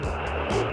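A Harrier jump jet's engine roars as the aircraft accelerates hard, a loud, sustained roar that swells and rises in pitch over under a second, with no voices.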